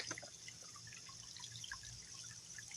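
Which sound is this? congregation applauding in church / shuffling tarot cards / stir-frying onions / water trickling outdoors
water trickling outdoors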